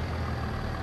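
A 165-horsepower medium tractor hauls a King Implementos Mega 11800 implement in Farming Simulator 22, its engine a steady, low, moderately loud drone that runs on without a break.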